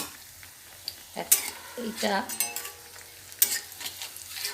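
Pakoras of stuffed bottle gourd leaves deep-frying in a kadai of oil, a steady soft sizzle with occasional louder bursts and clinks as pieces go in, under a brief word of talk.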